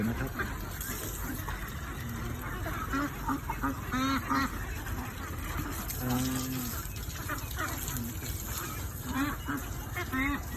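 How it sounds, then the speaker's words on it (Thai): A dense chorus of ducks on a duck farm in the evening, quacking and honking continuously, close and loud, with overlapping calls from many birds throughout. "วันนี้พามาพบกับฟาร์มเป็ดของเราในยามเย็นนะครับ"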